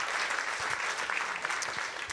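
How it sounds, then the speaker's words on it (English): An audience at a plenary session of a transatlantic security forum in Brussels applauds with continuous, even clapping that fills the whole moment, moderately distant and fairly quiet. "Big round of applause to Asya and Amdara for a wonderful moderation"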